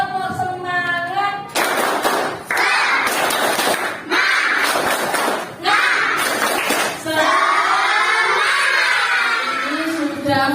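A group of children performs a rhythmic clapping cheer in a classroom, loud bursts of clapping in short patterned bursts between shouted chanting voices.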